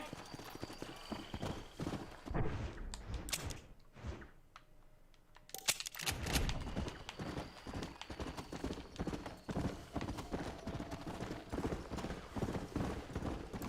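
A horse's hooves clip-clop in a steady walking rhythm in Red Dead Redemption, going on for many seconds with a short lull partway through and a faint whinny. No talking.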